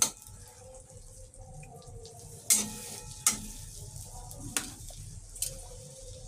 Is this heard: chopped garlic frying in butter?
yes